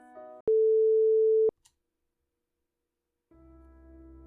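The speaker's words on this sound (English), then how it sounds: "Something is ringing." An electronic phone tone in the visual novel game Sounds of Her Love: one steady, loud one-second beep that cuts off abruptly, with quiet game music before it and again afterward.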